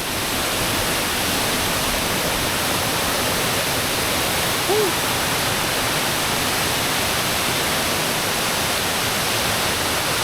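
Phangoi waterfall, a high multi-tiered cascade in Thailand, roars as a loud, unbroken wash of rushing water, heard close and alone.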